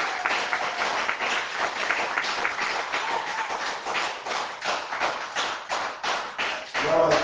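A church congregation applauds the Lord, a steady run of rhythmic clapping from many hands that fills the room and stays loud throughout, with no one speaking over it.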